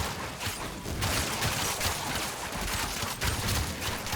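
Continuous, fast automatic fire from the Coda Hirudo weapon in Warframe, a dense rattling stream of shots holding steady for several seconds with no talk over it.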